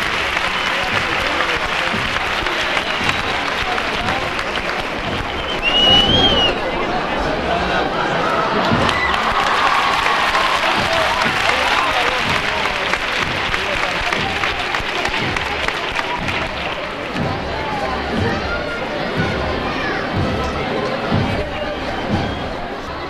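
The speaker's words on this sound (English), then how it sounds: "the people are clapping and whistling and shouting out" Crowd at a Holy Week procession in Seville clapping, whistling and shouting, with scattered applause, a sharp whistle and lively chatter throughout, and a voice talking over the crowd noise.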